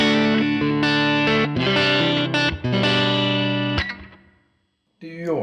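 Electric guitar chords played through a Line 6 HX Stomp XL with reverb, ringing and sustained, then decaying into a reverb tail before a fresh strum begins.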